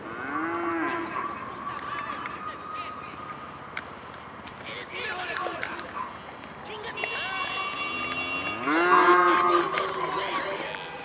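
Cattle in GTA Online low and moo repeatedly, several drawn-out calls close by that rise and fall over a bed of game ambience, with a loud final moo near the end.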